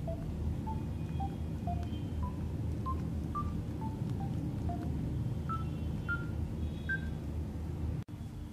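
About a dozen short DTMF keypad tones from a phone as buttons are pressed in quick succession, evenly spaced beeps over steady background hum, ending with a sharp click.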